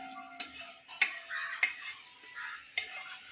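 A spoon stirs mashed Kadali and Njalipoovan bananas in ghee for adapradhaman, with faint soft scrapes and a gentle sizzle, marked by a few sharper clinks against the pan, quiet and close.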